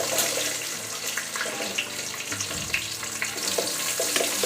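Onions sizzling and frying in hot oil in a pan for Nellore-style fish curry, a steady close crackle with small pops and utensil clinks throughout.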